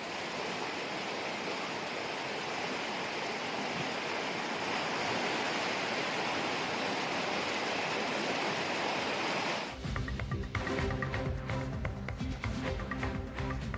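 Rushing floodwater from an overflowing stream pouring through a residential colony, a loud, steady broadband roar of turbulent flow close by that then shifts to a rougher, choppier churning.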